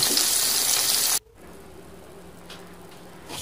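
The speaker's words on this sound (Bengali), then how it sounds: "বড় রুই মাছ এবং এগুলো এরপর নুন আর হলুদ মাখিয়ে নেওয়া হয়েছে, তারপর ভেজে নেওয়া হচ্ছে" Rohu fish pieces rubbed with salt and turmeric fry in oil, a loud, dense sizzle that cuts off abruptly after about a second, then continues as a softer, steady crackle.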